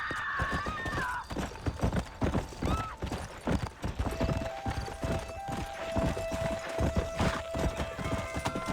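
Loud, steady clip-clop of horse hooves trotting throughout in the video game Red Dead Redemption, with a brief whinny near the start.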